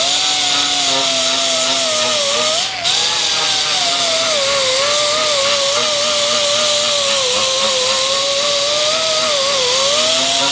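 Power sander working steadily on a Porsche part, a loud continuous high whine with a slight wavering pitch that runs almost unbroken for about ten seconds, briefly dipping once near the start, with nobody speaking.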